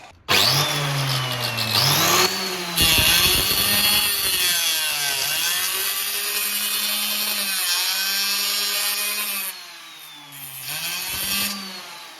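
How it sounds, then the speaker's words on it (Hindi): An angle grinder fitted with a diamond cutting disc whines loudly and steadily at close range, its pitch rising and dipping as it bites into material and eases off, with no talk. "मैंने इस ब्लेड को एंगल ग्राइंडर में लगाया है। अब देखते हैं क्या होता है।"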